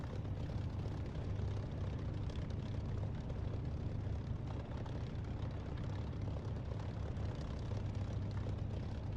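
Steady, loud jet or turbine engine roar from an aircraft taking off in the DCS flight simulator, a dense continuous rumble holding level throughout with no talk.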